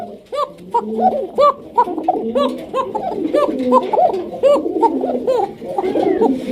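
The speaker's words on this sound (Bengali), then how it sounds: "ডাকগুলো তো অবশ্যই আপনারা খেয়াল করছেন পুরো ভিডিওতে দেখবেন ককা কবুতরের ডাক আছে" Kaka pigeons, a male and female breeding pair, coo over and over in a loud, rhythmic stream of overlapping calls, close by.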